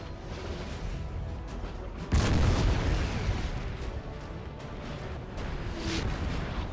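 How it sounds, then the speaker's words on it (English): Artillery fire in Napoleon Total War, a sudden heavy boom that rolls out over a continuous battlefield rumble, with further distant thuds in the background. "Kingdom of Saxony is not liking this artillery"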